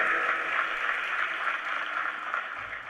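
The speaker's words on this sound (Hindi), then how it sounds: "इनके लिए भी एक बार तालियां बजाइए।" At an agricultural science fair in India, an audience claps for farmers, a continuous wash of distant applause from a large crowd, soft and even, with no talking.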